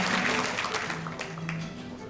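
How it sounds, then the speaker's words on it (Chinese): Sustained applause from an audience at the 2016 Lingjiushan Tainan Puren Award ceremony, welcoming two hosts to the stage. The clapping is dense and steady, with a faint voice underneath. "那我们用这一掌声欢迎他们两位。"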